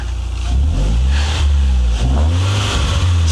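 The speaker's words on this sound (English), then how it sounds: "This one has an aftermarket exhaust, so I'll have a quick little listen to what the exhaust sounds like." A 2001 Toyota Altezza RS200 Z-Edition with aftermarket exhaust revs up close and loud, the deep engine note rising and falling across a couple of throttle blips with no voices.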